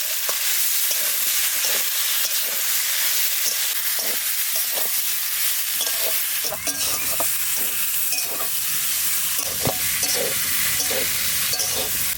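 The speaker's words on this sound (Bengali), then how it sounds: "জিরে শুকনো লঙ্কা এবার কড়াইতে দিয়ে দেবো।" Cumin and dried red chillies frying in a wok for a hilsa fish and elephant foot yam curry, a steady loud sizzle with scraping stir strokes that grows denser midway.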